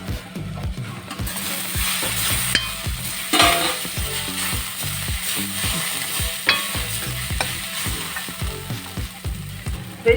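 Prawns fry with onions and shallots in a pan for a coconut curry, giving a continuous sizzle under steady, rhythmic stirring and scraping close by.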